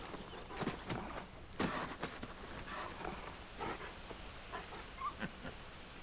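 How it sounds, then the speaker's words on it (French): Torgal, a hunting dog in Final Fantasy 16, whimpers and whines in short, soft cries scattered over several seconds, with faint footsteps and light movement beneath. "Ça, c'est vraiment un bon chien."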